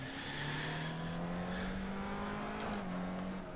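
Formula Skip Barber race car in a racing sim, its engine droning steadily at a near-constant pitch, rising slightly and then easing, moderately loud with no talk.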